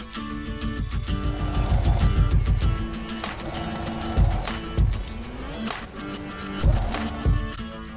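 A sewing machine stitching quilted fabric for a zipper box pouch, a steady mechanical whir that slows into a few separate clunks near the end.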